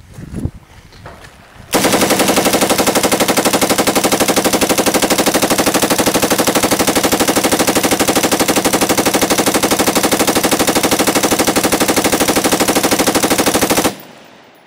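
A full-auto FERFRANS HVLAR 5.56mm AR carbine fed from an Armatac 150-shot SAW magazine fires one loud, close, unbroken burst lasting about twelve seconds, then stops abruptly.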